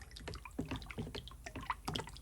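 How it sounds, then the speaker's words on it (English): Car paint thinned with Matrix hot reducer MR0985 poured straight into a spray gun cup, a quiet close trickle with small dripping splashes throughout, no speech. "Not going to filter this, we're just going to pour it right in the gun."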